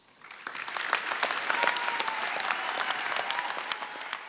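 An audience bursts into applause after a police speech at a memorial following a deadly concert bomb blast. The clapping is dense and sustained, rising quickly to full strength and holding steady as a large crowd claps together.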